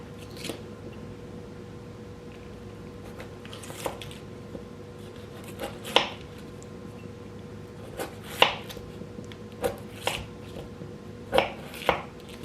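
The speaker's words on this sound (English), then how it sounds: "you're gonna take your butter and you're gonna cut it into 1 tablespoon portions" A knife cuts a stick of butter into tablespoon portions on a board, with a dozen or so soft, close, irregular taps over a faint steady hum.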